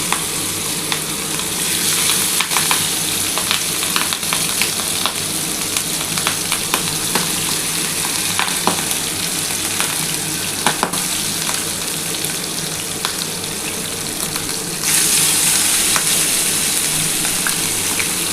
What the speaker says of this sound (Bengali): মাছগুলোর মধ্যে নুন হলুদ মাখিয়ে নিয়েছি, এবার আমি এগুলো ভেজে নিচ্ছি